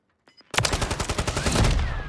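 Rapid automatic gunfire in a Call of Duty match, loud bursts after a brief quiet start, continuing in a dense rattling stream to the end.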